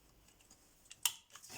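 Scissors snip the corners of a small handmade craft piece, a single sharp close cut standing out against quiet rustling, with faint handling noises around it.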